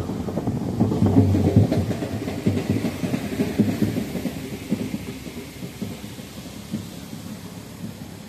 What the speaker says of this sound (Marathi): बघू शकता किती पाणी वाहायला लागलंय ते. हे बघा धबधबा.